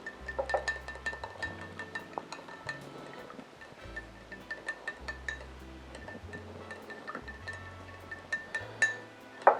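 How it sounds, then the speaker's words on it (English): Spoon stirring a pumpkin puree cocktail in a glass, quiet repeated clinks and scrapes against the glass with a faint low background hum. "we're going to just kind of stir this up and kind of break up that pumpkin puree a little bit before we add the bourbon"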